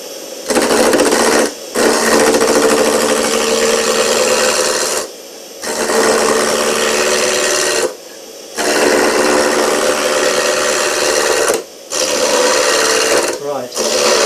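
A wood lathe spinning while a turning tool cuts into the wood, a loud, steady whirring scrape in long bursts broken by short quiet pauses as the cut stops and restarts.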